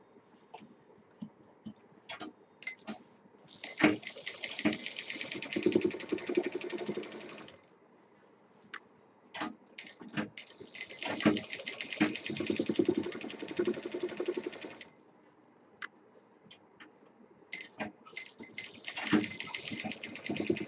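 A sewing machine stitching the flap of a homemade fabric party purse, running in three bursts of fast whirring with quiet pauses and small clicks between them, with no talking.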